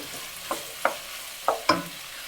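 Vegetables frying for kharabath are stirred in a pan, with four distinct scraping clinks of the spoon over a soft, steady sizzle.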